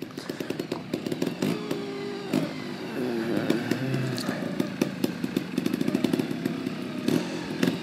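Trials motorcycle engine revving in a tall third gear during a trials section: a raspy, buzzing single-cylinder drone rising and falling under load, close and steady, broken by sharp crackling pops and clatter throughout.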